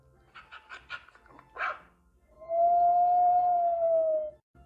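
A Siberian husky, the sled dog of Siberia, gives a few short yips and barks, then one long, loud, steady howl held for about two seconds, close and alone.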